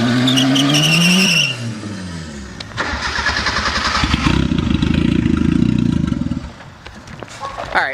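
Turbocharged Mazda Miata on ten-year-old rear tires at 50 PSI revving hard and spinning them, loud engine roar rising with a long steady wheelspin howl, close by.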